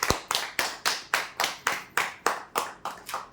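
Audience at a prize draw clapping for a winner, about a dozen sharp, evenly spaced claps in a steady rhythm, fairly close, without talk.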